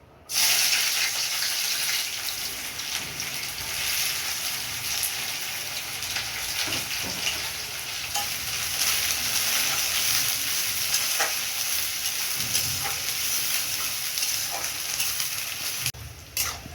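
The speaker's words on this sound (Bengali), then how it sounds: "কড়াই বসিয়েছি, তেল দিয়ে দিয়েছি, পেঁয়াজটা দিয়ে দিচ্ছি" Onion frying in oil in a wok for a fish gandharaj dish gives a steady, close hiss and crackle of sizzling that runs unbroken for the whole stretch, with occasional faint scrapes of stirring.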